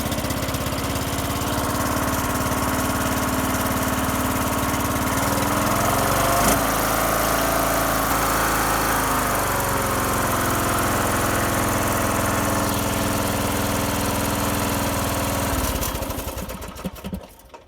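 Homemade racing lawnmower engine started and left running, a loud, steady mechanical drone close by with a brief shift in pitch midway before cutting off near the end.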